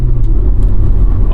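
A Honda S2000 drives with its top up on a chilly Northern California road in December, a loud, close low engine and road rumble from inside the cabin, steady throughout with no talking.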